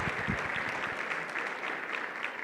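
A church congregation applauds at a Sunday sermon, a steady wash of clapping from many hands filling the room, fairly loud and continuous throughout.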